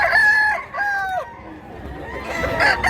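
Roosters on a Cebu farm crow one after another in long, drawn-out calls, loud and close, with a third crow rising near the end.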